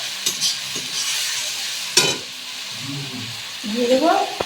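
Raisin-poppy seed and mustard-poppy seed paste hitting a hot pan, with a bright sizzle and hiss, the scrape and clink of stirring against the pan, and a voice speaking over part of it.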